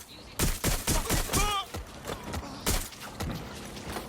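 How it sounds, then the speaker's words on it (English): Bursts of rapid gunfire in the video game Watch Dogs Legion on PS5 crackle in quick volleys, fairly loud and close, with short pauses between bursts and a brief tonal chime partway through. "he pulls out a gun and starts shooting me"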